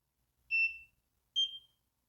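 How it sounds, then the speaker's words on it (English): Two short electronic beeps from a skin treatment device signalling treatment done, clear and fairly high-pitched, separated by a brief pause, in an otherwise quiet room. "Same thing, beep means it's done."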